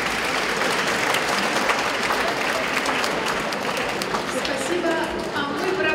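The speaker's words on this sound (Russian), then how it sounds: "а мы провожаем сводный мужской хор Санкт-Петербурга аплодисментами" Concert audience applauding a combined men's choir from Saint Petersburg at a hall concert, a steady dense wash of clapping filling the room throughout, with a voice speaking over it near the end.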